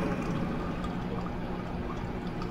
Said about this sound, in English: He's gonna flush me!